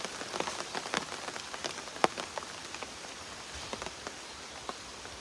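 Monsoon rain falls outdoors, a soft continuous patter of drops on surfaces with scattered louder individual splats and ticks, heard alone without talk.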